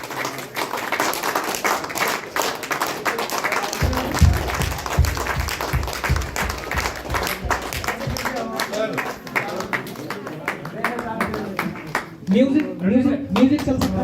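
An audience at a community celebration in Shimla claps for achievers, a dense burst of applause building under a loud voice urging them on, with music starting toward the end.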